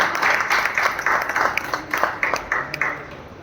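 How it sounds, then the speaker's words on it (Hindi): Audience applause at a retirement honour ceremony and poetry gathering, a steady wash of many hands clapping with sharper individual claps standing out toward the end, moderately loud throughout. "एक बार जोरदार ताली बजाएं"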